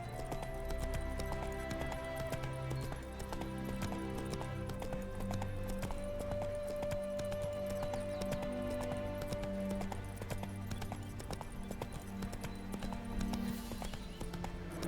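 Steady clip-clop of horse hooves in The Witcher 3 on a continuous rhythm, mixed with music and ambient game sounds throughout.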